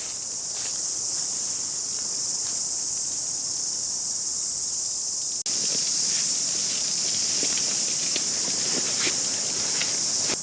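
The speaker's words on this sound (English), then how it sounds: "If you're wondering what that buzzing sound is, locusts, or we call them cicadas in New Zealand." Cicadas, called locusts by some, drone in a loud, steady high-pitched buzz that fills the whole stretch at a campsite in rain, swelling slightly partway through with faint ticks and rustles beneath.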